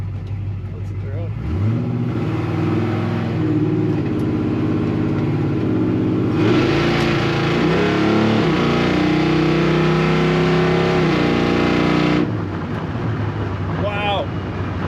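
The V8-style engine of a 1970 Chevrolet C10 pickup revs up loudly on the road, climbing through rising pitch sweeps with a gear change, then settles back, heard close from the cab over wind rumble.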